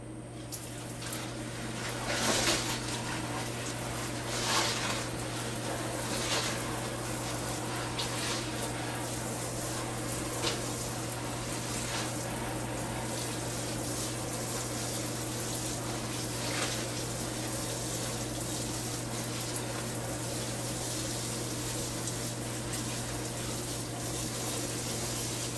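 Water pouring steadily to soak broccoli microgreen seeds pressed flat on a growing board, a constant rushing gush over a low mechanical hum, with brief louder splashes early on.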